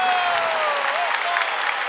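A church congregation applauding, a continuous wash of clapping heard from amid the crowd, with a sustained musical tone running beneath it.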